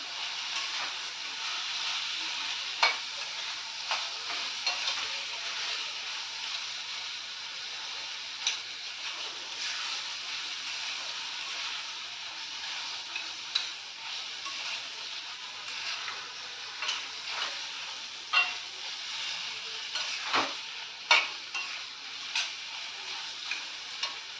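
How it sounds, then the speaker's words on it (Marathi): Tomatoes and potatoes fry in oil with a quiet, steady sizzle, broken by small sharp clicks and taps as they are stirred. "टोमॅटो सोबतच मी ते बटाटे सुद्धा घालणार आहे त्या म्हणजे दोन्ही सोबत छान परतलं जाईल तेलामध्ये"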